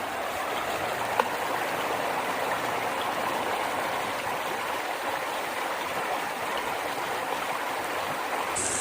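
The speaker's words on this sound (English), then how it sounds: "I always love the sound of the river." A river near Woodstock, Georgia flows in a constant, even rush of water, a soft broadband hiss that continues unbroken with no voices.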